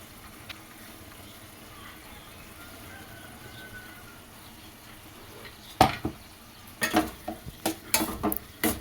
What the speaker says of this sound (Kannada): ಕಡಲೆ ಬೀಜ ಮತ್ತು ಕೊಬ್ಬರಿ ಅದನ್ನು ಸೇರಿಸ್ಕೊಂಡು ಮಿಕ್ಸ್ ಮಾಡ್ಕೊತಾ ಇದ್ದೀನಿ